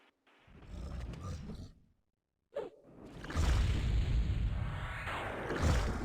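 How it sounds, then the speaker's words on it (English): Heavy bolt guns fire during a raid in the fantasy online game EverQuest, giving a sudden sharp boom followed by a loud sustained whooshing blast over a busy game soundscape. "It says you fire the bolt guns."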